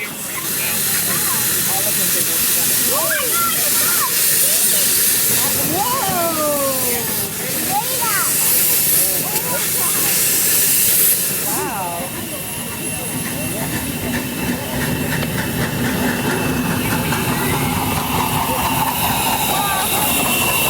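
Steam hisses loudly and continuously from a miniature-railway steam locomotive at Burnaby Central Railway, with a burst of louder venting that drops off partway, under faint chirps and background voices.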